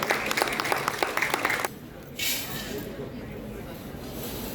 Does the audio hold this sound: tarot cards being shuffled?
no